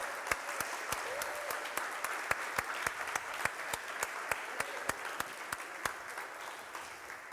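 A church congregation applauding during a sermon, a quiet, steady patter of clapping with sharper individual claps standing out in a regular rhythm, faint and distant.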